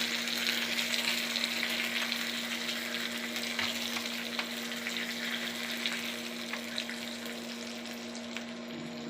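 Tempering for adai frying in a pan with shallots and curry leaves, a steady close sizzle and crackle over a constant low hum.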